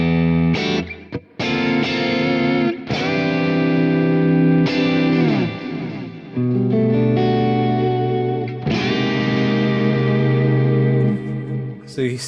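Guitar played through a Quad Cortex preset's clean scene with reverb switched on, sustained chords and single notes ringing loud with washy reverb tails for the whole stretch.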